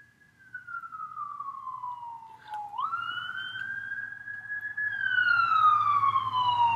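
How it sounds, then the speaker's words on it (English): A single wailing siren sweeps down and back up in pitch, growing louder as it nears, with faint traffic rumble underneath. "Could be an ambulance."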